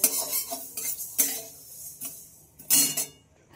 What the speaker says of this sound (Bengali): সর্ষে লঙ্কা আর পাঁচফোড়নটা একটু আগে দিয়ে নেবে, সেই মতো ভেজে নেবে।